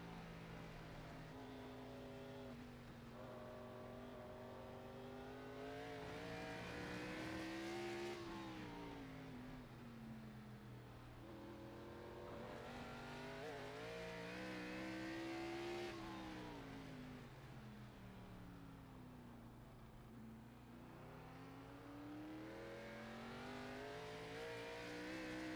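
A NASCAR Xfinity race car engine at Sonoma in the iRacing sim roars steadily, its pitch repeatedly climbing and dropping through upshifts, downshifts and throttle changes across a lap section.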